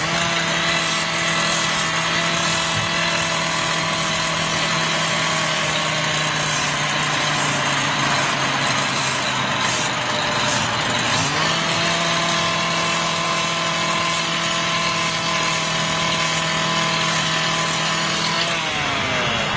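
A jet airliner with Rolls-Royce RB211 engines at full thrust at Heathrow gives a loud, sustained droning roar with a steady whine, and partway through the whine shifts in pitch as the aircraft moves.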